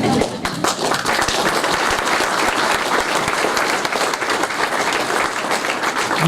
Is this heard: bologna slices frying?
no